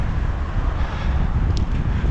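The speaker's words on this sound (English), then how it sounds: "I don't know if you can hear that wind" Strong, freezing wind blows over a rider on a cold mid-May day, a steady close rumbling roar that buffets without pause and carries no talk.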